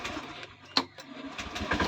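Honda Beat FI scooter that starts weakly and stalls, its engine cranking with a sharp starter burst, then catching into a low, uneven idle nearby, no talking.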